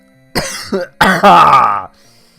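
A person coughs loudly up close, a couple of short hacks followed by a longer, rough coughing burst.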